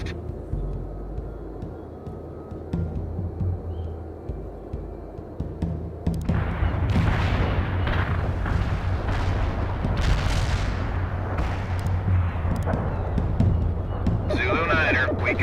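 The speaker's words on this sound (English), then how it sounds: "Artillery barrage turned the target area into dust." Heavy artillery barrage in the real-time strategy game World in Conflict, a low rumbling bed that swells after a few seconds into a dense, sustained roll of overlapping distant and near blasts, with a radio voice speaking over it.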